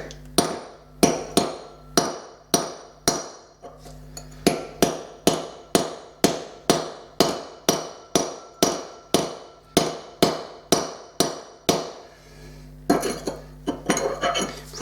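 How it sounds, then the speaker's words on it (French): Hammer driving a chisel into a ceramic floor tile to crack it, a steady run of sharp, ringing metallic strikes at a regular rhythm, close and loud, speeding into a quicker flurry of taps at the end. "on peut essayer de donner un coup de burin comme ça là-dessus"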